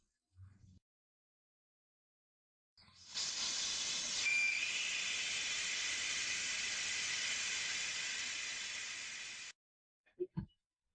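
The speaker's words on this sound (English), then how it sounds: "If we have a tool like these to unscrew the valve, the air will come out faster." Air hisses out of a car tire valve for about six seconds: a loud, steady rush that starts abruptly and fades slightly before cutting off, with brief clicks before and after.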